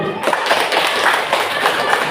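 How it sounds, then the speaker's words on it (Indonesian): An audience of children and adults claps steadily and densely at an elementary school's final-round quiz competition, the applause filling the room without a break. "untuk menyemangati kita bersama, tepuk tangan terlebih dahulu"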